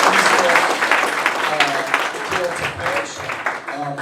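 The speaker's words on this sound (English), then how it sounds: "let's give him a round of applause" Audience applause at an investor pitch event styled like Shark Tank, a steady wash of clapping from a room of people with some crowd voices mixed in, lasting throughout at fairly close range.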